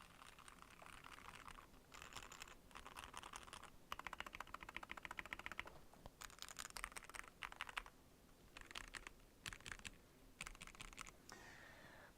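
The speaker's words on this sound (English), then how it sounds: "we've gotten some conflicting feedback on the sound of this keyboard" Bursts of clicky typing on a Glorious GMMK Pro mechanical keyboard, fast clattering keystrokes in short runs with brief pauses between, close and fairly quiet.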